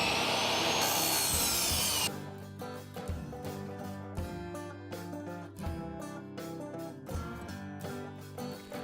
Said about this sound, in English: I had to cut 8 equal lengths of each piece.